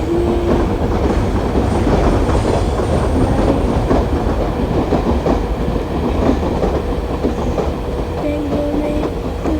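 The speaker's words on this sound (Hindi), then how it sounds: "नीचे रोड के ऊपर से हमारी double decker super fast sleeper train पास करते हुए" A double-decker superfast sleeper train passes over a road on the way into Bangalore, with a loud, continuous roar, rhythmic wheel clatter and brief squeals heard close by.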